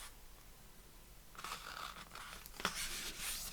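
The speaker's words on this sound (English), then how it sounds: "let's fold that exactly in half" A sheet of lumpy-textured handmade paper is folded in half for a journal, quiet at first, then crisp crinkling and rustling as it creases, with a sharp crackle near the end.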